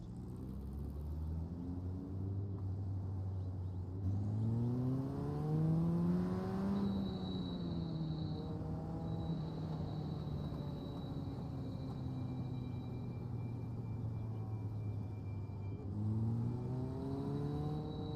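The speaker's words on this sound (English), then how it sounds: "Car sound." A car engine in a racing game on a Japanese track revs up in a long climbing pull, shifts, then holds a steady drone before rising again, close and clear, with a faint high whine alongside.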